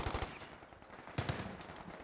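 Machine gun fire in the Company of Heroes 2 real-time strategy game during a 2v2 match: short rattling bursts of automatic gunfire, fairly distant and muffled, two clusters within a busy layer of battle noise, no talking.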